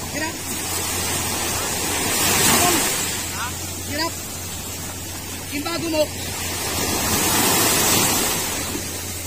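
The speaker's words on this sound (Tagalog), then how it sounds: "Kinaon ni Kabugoy yung alon" Ocean waves around a small boat at sea, surf swelling and washing in broad rolling surges, fairly loud, with voices calling out over the water.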